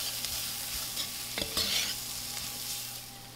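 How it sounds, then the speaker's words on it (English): Paprika and red pepper flakes bloom in a pot for Turkish lentil soup, giving a steady bright sizzle with a few scraping stirs partway through, close up and without talk. "Put all those beautiful spices in there. Let this cook for a minute. Let those spices bloom nicely."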